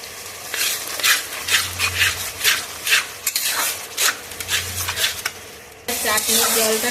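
Chutney being stirred in a cooking pan, spoon scraping in a steady rhythm of repeated strokes under a soft sizzle, close and fairly loud, ending with a burst of louder frying.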